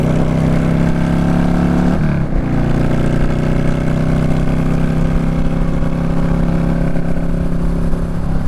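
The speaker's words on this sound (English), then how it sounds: "You got tons of torque from a single cylinder thumper" A single-cylinder thumper motorcycle pulls hard, its loud, rough engine roar rising after a brief dip as it accelerates, with strong wind rush, close up and without speech.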